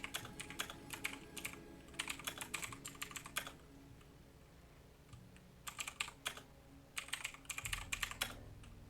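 Quick clusters of keystrokes clatter on a computer keyboard in bursts separated by short pauses, close and clear with no talking, during a tabletop role-playing game session.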